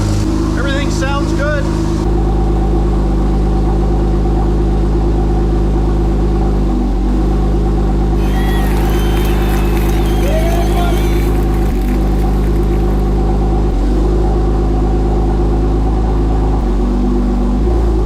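A Porsche 997 911 Turbo pulls away in first gear after clutch slave cylinder repairs, its engine a steady, low, continuous drone, with a voice talking briefly near the start.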